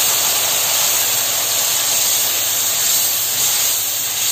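A ginger, garlic, tomato and onion paste fries in hot oil for chole, giving a loud, steady hiss and sizzle throughout with no talk over it.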